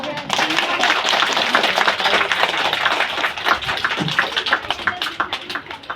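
Schoolchildren at a school foundation day celebration clap together in a dense, sustained round of applause with sharp individual claps standing out, loud and close throughout.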